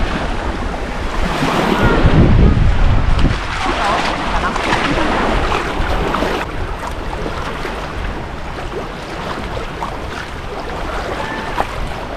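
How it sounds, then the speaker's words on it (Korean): Wind blowing hard across a microphone on a beach, with surf rolling in the background and occasional voices. "바람이 불어오는데"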